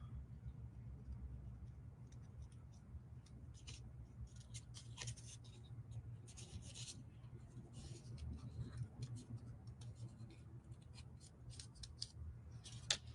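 Scissors snipping around a printed Halloween decoupage paper napkin motif, a long run of quiet, close, irregular cutting clicks with no speech.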